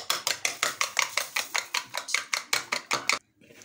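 Egg with salt and black pepper being briskly mixed in a bowl: about a dozen quick, evenly spaced beating strokes, close and crisp, that stop abruptly near the end.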